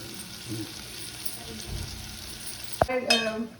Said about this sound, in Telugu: అల్లం వెల్లిగడ్డ వేస్తున్నా.